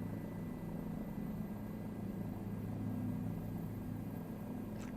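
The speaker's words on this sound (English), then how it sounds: "got my helicopter ride here" A helicopter in the Microsoft Flight Simulator 2024 video game gives a steady, even engine and rotor hum that drones without a break at moderate level, with no voices.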